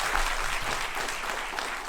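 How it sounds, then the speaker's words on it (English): Steady audience applause after a filmmaker Q&A session with Rajat Kapoor, a dense wash of many hands clapping at constant loudness for the whole stretch, with no voices on top. "Let's give him a round of applause."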